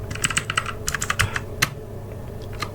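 Quick bursts of keystrokes on a computer keyboard as an IP address is entered for an FTP connection, close and clear, with a short pause before a final tap.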